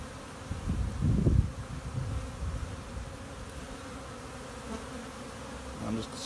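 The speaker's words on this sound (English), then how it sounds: "I'm just scooting these bees so I can see if the queen's on here." Honey bees swarm over a hive frame with a steady, soft buzzing hum, a louder close burst near the start, then a constant low drone.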